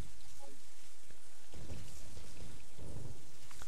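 Rain in the video game Resident Evil 3, a continuous dense hiss of downpour with a deep rumbling swell partway through, steady and enveloping throughout.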